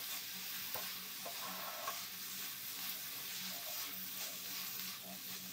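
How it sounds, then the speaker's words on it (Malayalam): Prawns for chilli prawns are stir-fried in a pan, a constant low sizzle with faint scraping and tossing sounds throughout, moderately quiet and without speech. "ഇനി നമുക്കിതിലോട്ട് നമ്മളിവിടെ റെഡിയാക്കി വെച്ചിരിക്കുന്ന പ്രോൺസ് ചേർക്കാം. വീണ്ടും നല്ലപോലെ ഒന്ന് മിക്സ് ചെയ്യാം."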